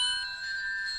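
A short bright chime from the bell blossom in the video game Undertale, a sustained ringing tone that holds steadily for about a second.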